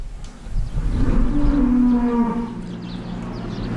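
A cow lets out one long, low moo that swells and fades, close by, with faint farm background noise.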